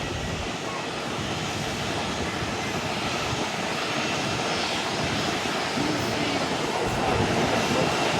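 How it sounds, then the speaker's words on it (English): A JetBlue Bombardier CS300 jet takes off from the airport, its engines giving a loud, steady broadband roar that holds strong and swells slightly toward the end. "Got the JetBlue Bombardier CS-300 taking off"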